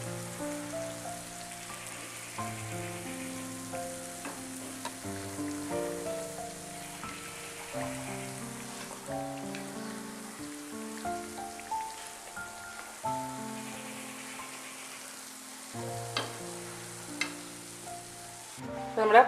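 Panjara appam sizzle in hot oil with a soft, continuous crackle and scattered pops, faint and close, with occasional light stirring and no talking.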